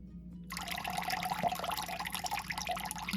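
Water strained off a Cuisinart salad spinner after spinning lettuce, a sudden steady splashing pour that starts after a brief silence and runs close and fairly quiet for about three seconds.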